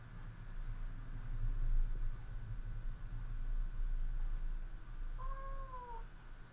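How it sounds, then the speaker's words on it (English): A cat lets out a single drawn-out meow near the end, moderately faint, over a steady low hum and background noise. "That was the cat."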